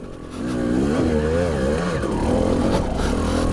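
A 2020 Husqvarna TE300i two-stroke motorcycle revs hard and close, its engine note rising and wavering through a loud, continuous burst of throttle, with no talking.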